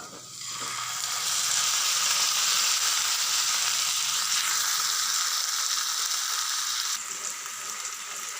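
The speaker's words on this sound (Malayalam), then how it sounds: "തിരിച്ചും മറിച്ചും ബട്ടറിൽ വറുത്തെടുത്ത മീൻ" Fish frying in butter with chopped garlic in a pan, a loud steady sizzle that crackles on without a break, with no talk over it.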